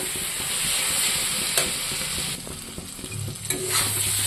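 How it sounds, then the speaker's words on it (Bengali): Dried red chilli and salt sizzle in hot oil in a pan, a steady loud frying hiss broken by a few stirring scrapes and clicks. "এখন আমি এগুলো দিয়ে অল্প ভাজবো।"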